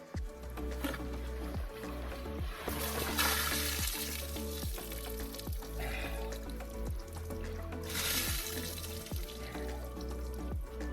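Water gushes and splashes steadily for several seconds as it pours out of torn fishing waders, a loud continuous pour with surges of spattering, close by and without talk.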